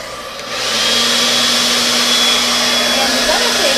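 A hair dryer blows steadily on wet paint during an art session, switching on after a brief quiet start and then running loud and continuous as a constant whirring rush of air, with no speech over it.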